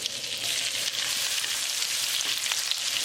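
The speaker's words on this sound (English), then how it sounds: "We're going to add garlic" Garlic sizzling in a pan of melted unsalted butter, a steady dense hiss with faint crackles, close and continuous with no talking.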